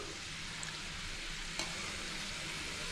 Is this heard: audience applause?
no